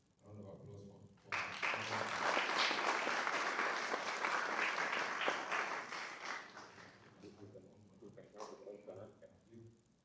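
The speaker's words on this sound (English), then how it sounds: "Please, round of applause for" Applause from a crowd breaks out after a moment of talk, sustained loud clapping for several seconds, then tapering off as a voice resumes.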